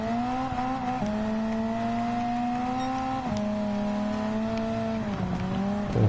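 Engine-swapped Honda S2000 making close to 700 horsepower racing in Gran Turismo 7, a loud, sustained high engine drone climbing through the gears with clear upshifts roughly every two seconds.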